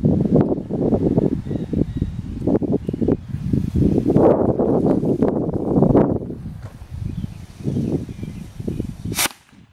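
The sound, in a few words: wind blowing outdoors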